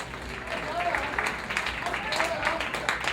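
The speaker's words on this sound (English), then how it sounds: "a round of applause for all of our fighters" Applause and cheering from the crowd at a Lion Fight Muay Thai weigh-in for the fighters, moderate and continuous, with voices and shouts mixed through it.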